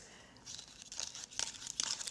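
Borax powder being stirred into water gives a faint, gritty scraping and crunching, irregular strokes growing slightly louder, close up and quiet, with no talk over it.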